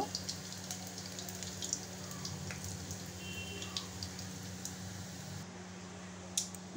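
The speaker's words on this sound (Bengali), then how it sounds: "ধোকাগুলো একটু লাল লাল করে ভেজে নেব।" Dhoka lentil cakes frying in oil give a soft, steady crackle and fine popping, quiet and continuous with a few sharper spits, under a low hum.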